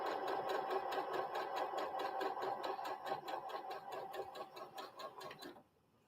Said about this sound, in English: we're just sewing on that line